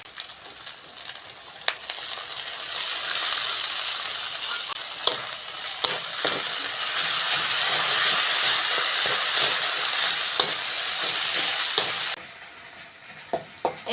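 Ground cumin paste frying in a pan for a Bengali rohu fish curry, a broad hiss and crackle under sharp clinks of a stirring spoon, easing off near the end.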